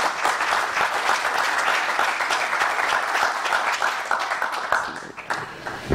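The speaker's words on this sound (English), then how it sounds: "Please give a warm round of applause for Ms." An audience gives sustained, even applause welcoming a speaker at an introduction, with dense clapping throughout that thins slightly toward the end.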